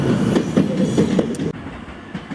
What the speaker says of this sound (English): Shinkansen.